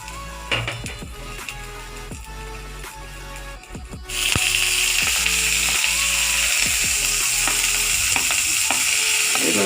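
Food frying loudly in a pan for a home-cooked vegetarian meal, with clattering spatula strokes and scrapes at first, then a sudden surge into a bright, dense sizzle that holds steady, close and without talk.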